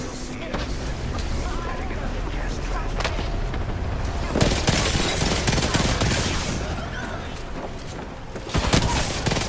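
Gunfire rattles through a shooter video game in repeated bursts and sharp loud cracks over several seconds, with voices talking over the shooting.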